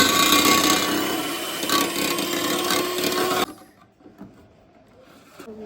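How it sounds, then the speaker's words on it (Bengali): A blender whirs loudly through a fruit sponge cake mixture in one steady, close burst, then shuts off, leaving faint clatter and room noise. "এবার এটাকে ব্লেন্ড করে নেব"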